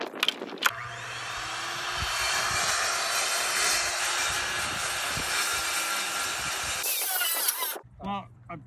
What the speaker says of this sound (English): it's binding the saw, the jigsaw